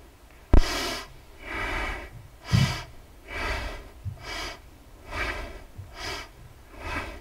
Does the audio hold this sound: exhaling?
yes